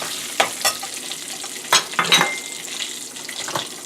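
Coriander seeds and two whole dried chillies sizzle in hot oil in a pan, with a steady frying hiss and a few louder crackling bursts as they are stirred, heard up close with no talking.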